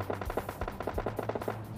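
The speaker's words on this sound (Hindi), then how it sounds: "ये गोलियां चल रही थी सेंट्रल रोड में।" Automatic gunfire in PUBG Lite along a central road: rapid, evenly spaced bursts of shots crack out loud and close, repeating steadily with no talking.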